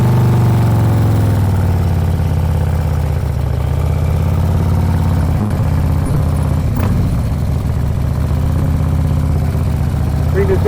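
A big motorcycle engine runs at low, steady revs during slow riding practice, a constant rumbling drone with slight throttle changes, close and loud, with someone talking over it.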